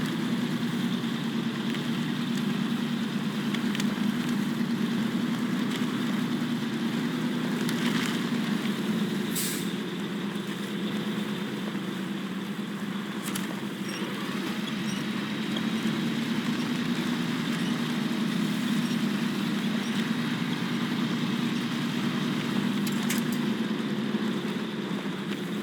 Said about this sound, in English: I am just hoping that this truck is going to have enough power and all-wheel drive to get up this hill.